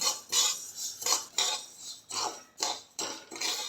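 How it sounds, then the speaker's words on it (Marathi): Sesame seeds dry-roasting over a low flame in a pan, stirred in a steady rhythm of scraping strokes against the metal, fairly close, with no talk. "तीळ मंद आचेवर भाजून घ्यायचे आहेत ते जसे जसे भाजतील तसे ते चटचट उडायला लागतात"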